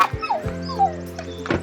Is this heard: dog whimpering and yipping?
yes